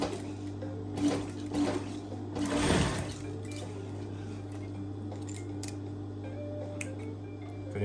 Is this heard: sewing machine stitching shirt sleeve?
yes